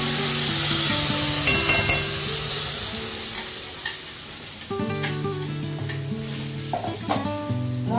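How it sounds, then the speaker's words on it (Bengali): Masala spice paste for a vegetarian chorbir torkari fries and is stirred in a pan, making a loud continuous sizzle with rhythmic scraping and knocking of the spoon. Tonal ringing from the pan runs through it. "এবার আমি মশলাটা কষিয়ে নেব।"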